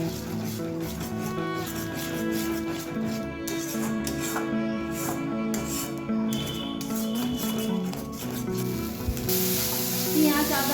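Tomato paste fries with onion, ginger and garlic paste in a pan for an aar fish dish, giving a loud, continuous close sizzle with stirring and scraping, over a faint tonal background.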